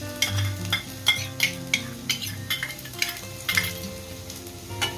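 Garlic drops into hot oil with cumin seeds in a pan and sizzles, with repeated scraping stirs of a spoon across the pan over a soft, steady music bed.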